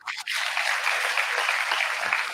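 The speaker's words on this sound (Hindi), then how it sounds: "ताली बजा दीजिए।" Applause from the audience at an NDMC World Environment Day and Menstrual Hygiene Day event in 2023, a dense burst of clapping that starts abruptly and carries on steadily, loud and close.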